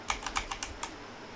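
About six crisp keystrokes tap on a computer keyboard while logging into a Proxmox server, close and fairly quiet with an uneven rhythm before going still.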